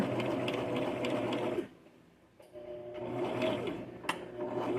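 A sewing machine stitches the side seams of a Simplicity S9603 garment, running in a steady, close, mechanical whir, pausing briefly midway, then resuming with a back stitch and ending with a small click.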